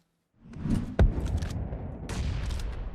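A sharp grenade blast rings out amid a steady wash of PUBG Mobile gunfire and rumbling, followed by more crackling bursts and dense background noise.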